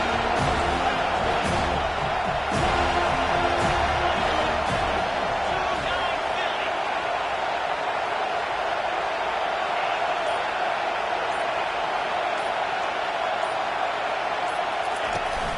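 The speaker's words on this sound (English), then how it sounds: "Decibels rising as the crowd gets behind this defense on 3rd down." A stadium crowd in a football video game roars for the defense on third down, a dense, sustained wall of cheering that swells early and holds steady throughout, with faint announcer chatter beneath.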